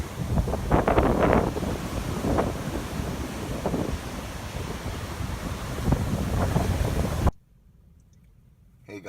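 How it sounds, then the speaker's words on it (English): Rough, angry ocean waves roll and crash on a beach with steady gusting wind across the microphone, loud and continuous with several bigger surges, then cutting abruptly to near silence near the end. "I'm leaving you now with the sounds of the ocean, and they are pretty angry today."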